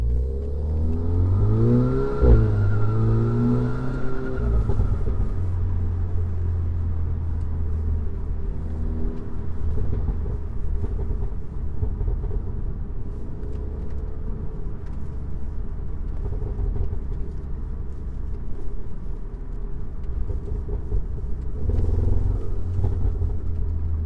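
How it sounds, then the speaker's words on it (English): Volkswagen Golf R fitted with an AWE SwitchPath exhaust, valves closed, heard from inside the cabin on a hard takeoff: a loud, steady engine drone rises through the gears and continues throughout, with no talking. "this is what it sounds like in the cabin with a hard takeoff with the valves off."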